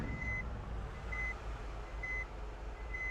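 Reversing beeps from a 22-wheeler truck in a bus simulator game on mountain roads, four evenly spaced high electronic tones about one second apart over a low steady engine rumble.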